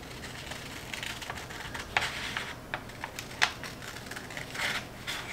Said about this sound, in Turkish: Şimdi bunu makasla keseceğim.